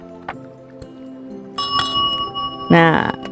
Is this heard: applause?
no